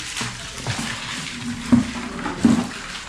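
Water running from a tap at a house under construction, a steady close gushing splash with a couple of louder surges, no talking.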